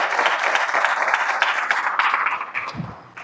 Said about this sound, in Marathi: मग एकदा जोरात टाळ्या होत्या